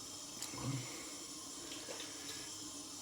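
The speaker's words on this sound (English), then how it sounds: "Just wetting the face." Tap water runs steadily into a sink while a man wets his face before shaving with a brush and soap, a faint continuous splash with brief louder splashes from hands near the start.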